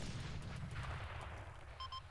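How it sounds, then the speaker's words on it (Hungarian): A demolition charge blast in the video game ARMA gives a muffled booming rumble that rolls on and slowly fades, followed by two short electronic beeps. "Oké, robbantok"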